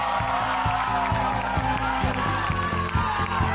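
A crowd at the Junior Innovathon 2025 final applauds and cheers for the runner-up school, a steady loud wash of clapping and voices with a faint rhythmic thumping beat underneath.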